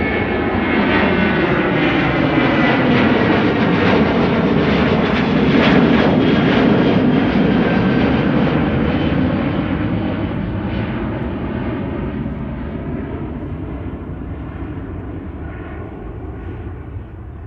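A jet airliner departing Amsterdam Schiphol roars loud and close, its engine noise swelling to a peak and then slowly fading and dulling as the aircraft climbs away, with no talking.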